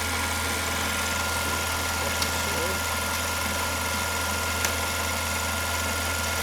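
A mini-lathe running with its cross slide and gibs tightened, giving a steady, close motor hum with a constant low drone and faint mechanical whine, nearly unchanging throughout.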